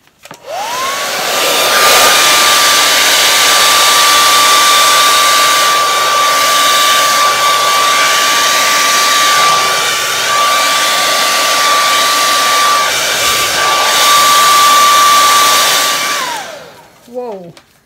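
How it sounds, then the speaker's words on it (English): A hairdryer blows steadily on an acrylic paint pour of white paint and water, a loud continuous whir holding one pitch for about fifteen seconds before switching off. "I think I'm just going to use a hairdryer up high."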